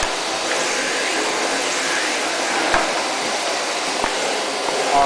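A vacuum cleaner runs continuously with a loud, steady whooshing drone and a few faint knocks.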